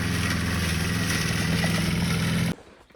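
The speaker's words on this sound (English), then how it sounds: "is out conquering the wild with a push mower, mowing himself a bike path" A push lawn mower runs steadily while cutting a bike path through wild ground outdoors, its engine drone loud and close, then cutting off abruptly near the end.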